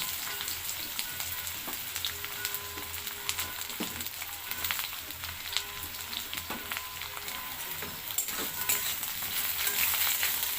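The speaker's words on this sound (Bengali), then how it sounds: "আলু বেগুনটাকে ভালো করে লাল লাল করে ভেজে নেব।" Potato and eggplant sizzle and crackle steadily in hot oil, with small pops scattered throughout and no talking.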